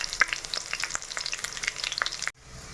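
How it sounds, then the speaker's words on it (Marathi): Garlic and cumin frying in hot tempering oil for a mung vadi curry give a dense, close crackling sizzle with sharp pops, which cuts off abruptly near the end, leaving a faint hiss. "लसूण जिरं फ्राय होत आहे."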